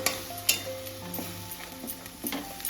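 A paste of ground pea pods is stir-fried in a pan, a soft continuous sizzle under repeated scraping and clinking strokes of a spatula against the metal.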